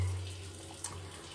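A tap runs steadily into a hospital sink as a face is washed, a close, even hiss of water with a brief splash partway through.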